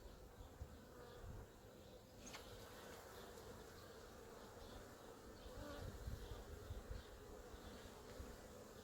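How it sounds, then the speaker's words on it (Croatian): Honey bees buzz steadily around an opened hive box, a continuous low drone with occasional louder passes close by and a brief sharp tick partway through. "Ima jedna pčela, to ćemo pustiti neka izađe van."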